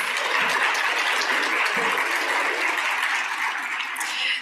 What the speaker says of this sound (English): let's give them another extra big round of applause, please.